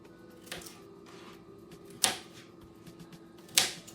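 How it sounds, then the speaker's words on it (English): A knife cuts potatoes into cubes for home fries, giving three sharp chops against a board, spaced about 1.5 seconds apart, close and clear with no talk. "So I'm going to cut them into bite-sized cubes."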